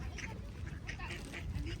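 Ducks being fed bread by a woman and children in a crowded park in Saint Petersburg give a quick run of short quacks over a steady outdoor background murmur.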